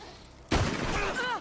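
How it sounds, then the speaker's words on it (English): A gunshot in the Western video game Red Dead Redemption 2 cracks out sharply after a silent half second, followed by a ringing, echoing tail with faint tonal whine. "You shot me."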